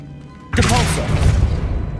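A Depulso force spell goes off in the video game Hogwarts Legacy, a sudden loud burst followed by a rumbling, crackling wash that fades slowly and runs about a second and a half.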